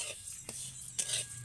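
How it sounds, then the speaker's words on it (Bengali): A spoon stirs coconut and sugar filling in a pan, giving a soft scraping and a couple of light clinks, quiet and close. "নারকেল আর চিনিটাকে আমি এইভাবে নাড়তে থাকবো।"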